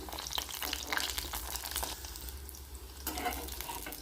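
Flipped fish roe fritters sizzle in hot oil, a close, continuous frying hiss with bubbly crackle that swells again toward the end, with no one talking.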